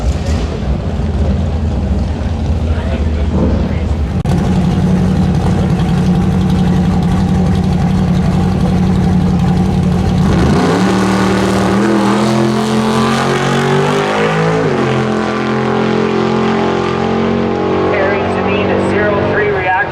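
A blown, alcohol-injected 510 cubic inch drag racing engine idles with a heavy, loping rumble. Midway it revs hard into a loud, rising roar as the car launches down the strip. Crowd and track noise run underneath.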